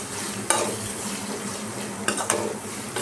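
Beetroot is stir-fried in a pan, with a soft continuous sizzle and a few sharp scrapes and clinks of the spatula against the pan.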